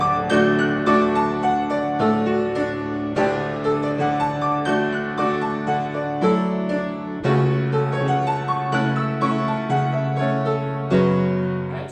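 A piano plays a song from Inuyasha in a fan arrangement at a slow practice tempo, with flowing arpeggiated notes over sustained bass chords, steady and close with no talking.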